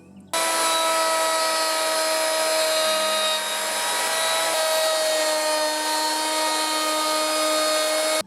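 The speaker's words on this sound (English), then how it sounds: "So there's one pass with the router" A router cuts down through old window putty to deepen a recess for double glazing, giving a loud, continuous high-pitched whine with a subtle shift in tone partway through and no talking.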